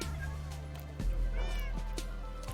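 A cat meowing while being tamed in the Minecraft video game, a couple of short pleading meows over a low steady game hum, clear and close, with faint talk around them.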